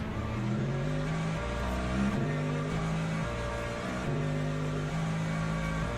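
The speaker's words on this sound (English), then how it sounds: "Listen to the engine." Racing car engine in the Le Mans Ultimate video game, a steady droning note with shifting pitch steps as it revs and changes gear, loud and continuous.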